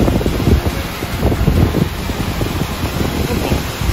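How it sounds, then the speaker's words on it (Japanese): A waterfall in Tochigi roars as a steady, broad rush of falling water, close and constant with no pauses or voices over it. "これが滝らしいです。"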